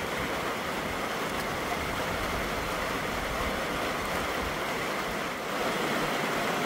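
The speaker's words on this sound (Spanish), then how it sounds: "Ya comenzó a llover." Rain begins falling outdoors near a home, a soft, steady broadband wash of drops that stays even and fairly faint throughout, with no speech.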